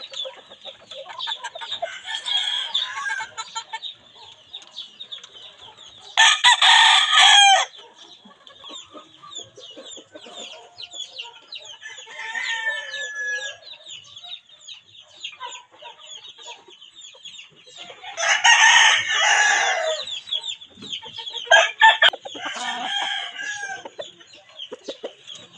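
Several fighting cocks crow loudly in bursts, with steady clucking and chatter from nearby fowl throughout, crowing peaks coming in three or four strong calls.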